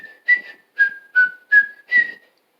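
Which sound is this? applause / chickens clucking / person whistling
person whistling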